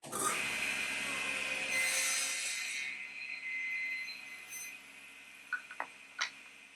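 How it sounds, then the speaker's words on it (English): A saw blade makes a short test cut through the very end of a wooden test piece while setting blade height for a tenon, with a steady whirring rasp for a few seconds, then tapering off with a few small ticks and knocks. "I'm going to take a cut right at the very end of my test piece to ensure I have my blade set correctly."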